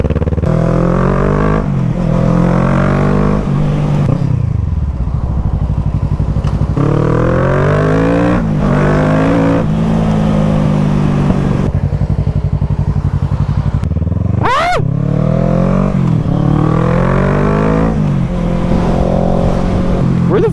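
A Kawasaki Z650 and a Honda CBR 600RR rev hard and accelerate through repeated rising gear pulls with brief drops between shifts, loud and close, with a sharp high engine scream partway through.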